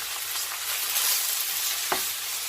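Garlic and mushrooms frying in a pan give a steady, close sizzle with soft stirring scrapes and a brief clink near the end.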